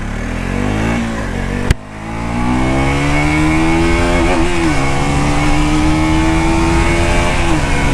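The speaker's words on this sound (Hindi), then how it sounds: "अंडरवेल एग्जॉस्ट है तो इसका साउंड कुछ इस तरीके का है।" A 2024 KTM RC 200 GP Edition motorcycle's underbelly exhaust revs loud and close, a sharp blip then a steady high-rpm drone with the engine note climbing through the gears.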